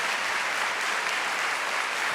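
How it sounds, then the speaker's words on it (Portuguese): An audience at a religious talk claps warmly in a brief, dense burst of applause that holds steady throughout, with no voices over it. "Isso aqui merece muitas palmas."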